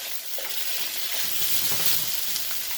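Mixed vegetables and chicken are stir-fried in a hot pan, giving a steady, close, loud hiss of sizzling with soft stirring scrapes and no talk.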